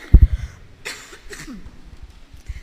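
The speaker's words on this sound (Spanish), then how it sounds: "he tenido una tosecita muy maluca" A single sharp cough up close, followed by quieter rustling and a faint breathy throat sound.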